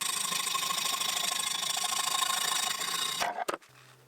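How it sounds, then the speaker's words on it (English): A hacksaw cuts through the last bit of a metal part for a Hemingway Kit ball turning device, a steady rapid rasping stroke rhythm that stops abruptly near the end, followed by a faint low hum. "I'm just going to have to hacksaw that last little bit through"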